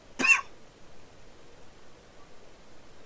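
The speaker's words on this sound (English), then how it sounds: "Excuse me, I need to cough." A single short cough near the start, close and fairly loud, followed by quiet room tone for the rest of the stretch.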